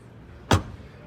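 The rear door of a 2024 MINI Countryman JCW shuts with a single solid thud, close by and brief, against a quiet background.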